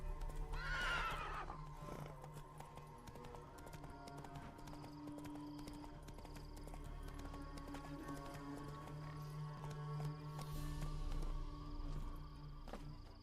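Roach the horse in The Witcher 3 whinnies loudly near the start, then hooves clip-clop steadily throughout over a layered game soundscape with ambient music tones.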